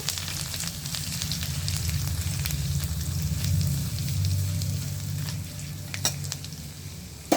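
Garlic fries in a pan with a continuous close sizzle and spattering crackle, broken by a couple of sharp clinks or stirring knocks toward the end, with no voices.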